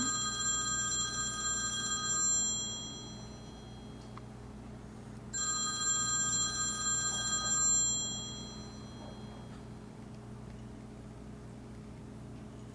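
A telephone bell rings in two bursts of about two seconds each, separated by a short pause, over a steady low background hum.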